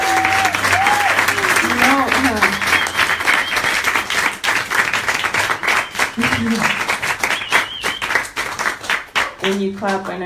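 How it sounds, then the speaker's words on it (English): Audience applause filling the space with dense, continuous clapping, loud and close, while voices speak and call out over it. "When you clap, I know you're clapping for Creator"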